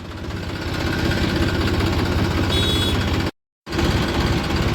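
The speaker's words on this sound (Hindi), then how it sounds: "ट्रैक्टर हटा रहे हैं जी पीछे।" A tractor engine runs close by while the tractor backs up, a loud continuous rumbling drone that cuts out for a moment near the end and then resumes.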